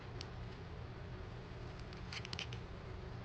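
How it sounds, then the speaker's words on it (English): Small scissors snip through a sticker in a few quick, close, faint cuts clustered near the end, over a steady background hum. "So I'm going to bring out my itty bitty scissors that I got from Kawaii Pin something."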